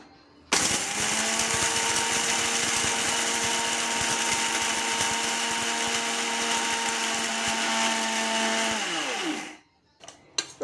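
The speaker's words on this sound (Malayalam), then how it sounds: "ഇനി നമുക്കിതിനെ പൊടിച്ചെടുക്കാം." An electric mixer grinder whirs loudly and steadily for about nine seconds while grinding Kerala-style sambar masala spices with asafoetida powder, then winds down and stops.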